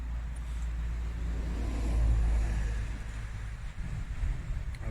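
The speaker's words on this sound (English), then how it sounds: "The main Glasgow-Inverness road is just down there, so a wee bit of traffic noise." Road traffic on the main Glasgow-Inverness road heard from a distance, a low continuous rumble that swells as a vehicle passes by and then settles back to a steady background drone.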